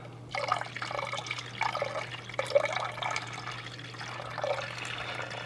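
Water is poured into a container for hot bed dyeing of a Discmania FD disc. It runs in several close, bubbly splashing bursts with short pauses between them.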